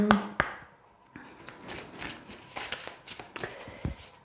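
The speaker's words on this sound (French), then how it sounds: "Est-ce que je vous tire une dernière carte?" Tarot cards being shuffled and drawn by hand during a reading, with a few sharp slaps and soft riffling taps, close and quiet, and no talking.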